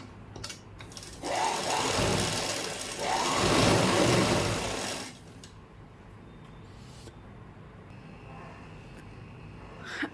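A sewing machine stitching along a salwar waistband belt, running in two loud bursts of steady whirring before stopping, then a quiet room with faint handling noises.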